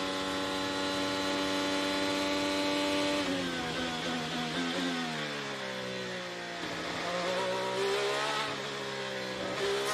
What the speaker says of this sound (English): Power down sounds good. You don't hear the engine noise increasing.